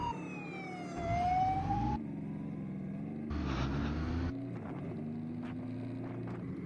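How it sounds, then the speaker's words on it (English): An ambulance siren wails with sweeping tones over the steady engine of a Triumph Speed Triple RS motorcycle and traffic noise, rising and falling as it passes close by. "Stop for this ambulance."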